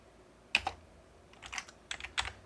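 Computer keyboard typing of AutoCAD commands, a few short clusters of close key presses spaced across a quiet background, with no talking.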